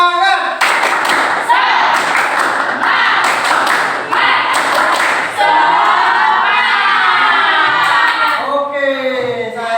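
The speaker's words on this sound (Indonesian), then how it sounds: "Tepuk semangat!" A school class performs a rhythmic spirit clap, tepuk semangat, with bursts of sharp, loud unison claps in a patterned beat. Children's chanting voices and shouts run between and over the claps.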